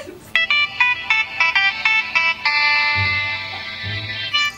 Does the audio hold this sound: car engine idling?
no